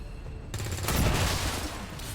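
Burst of gunfire in the game Long War 2, a sudden loud volley cutting in after a quiet moment and sustaining as a rattling fusillade before fading slightly.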